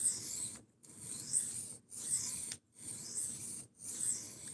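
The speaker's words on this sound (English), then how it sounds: "Sharpening." A blade is sharpened by hand on a new sharpening stone, making steady rasping strokes in a regular back-and-forth rhythm: five scraping passes with brief silent gaps between them, close and moderately loud, with no talking.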